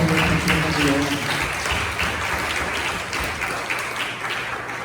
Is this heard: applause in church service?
yes